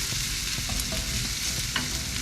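Ramen ingredients sizzle and fry in a pan while a spoon stirs and scrapes them, a steady close crackle with occasional clinks and no talking.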